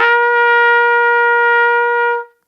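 A trumpet blown too fast jumps to a high, harmonically rich tone, one sustained note held steady for about two seconds before it stops cleanly, played alone with no talking.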